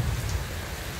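Steady rain falling outdoors during a walk with a small child, a dense continuous hiss with low rumble, close and fairly loud throughout the short moment, no talking.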